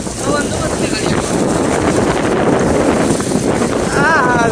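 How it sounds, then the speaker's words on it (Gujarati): Strong wind buffets the microphone outdoors as a storm with lightning builds before rain. The roar is loud and continuous, with faint background sounds beneath it. "પવને પણ બહુ છે."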